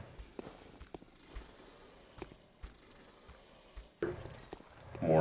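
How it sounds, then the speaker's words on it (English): Footsteps in the dark world of Bloodborne, several soft, irregular thuds spaced apart against a quiet, hollow background, then a louder burst of noise near the end. "More footsteps."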